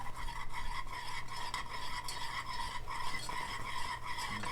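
Noodles being stirred in a pot make a steady, close scraping and swishing with light clinks of the utensil against the pot, continuous and moderately quiet throughout, with no talking.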